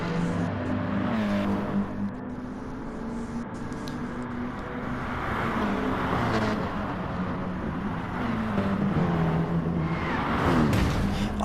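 Racing cars accelerate hard along the Nürburgring Nordschleife in a racing video game's 24-hour night race, an Audi TT among them; layered engine tones rise and fall steadily and loudly throughout, with no talking.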